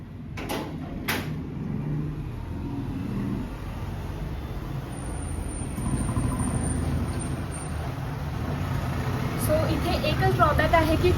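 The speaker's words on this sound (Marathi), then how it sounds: "खूप जास्त गाड्या आहेत मेन रोड आहे त्याच्यामुळे खूप जास्त गाड्या येतात" Constant rumble of vehicles on a busy main road in Pune, with engines and passing traffic droning under a person talking nearby.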